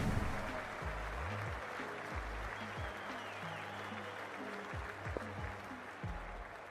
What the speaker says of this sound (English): the crowd is making plenty of noise for the opening game